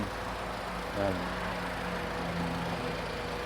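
The 2.7-litre engine of a 2005 Toyota Fortuner 4x4 automatic idles with a low, steady hum, quiet, faint and even, with no voices heard over it.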